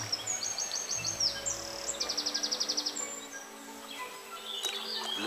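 Several birds sing and chirp by tidal water in a nature setting, with a quick rapid trill series in the middle and scattered calls, moderately near over a quiet background.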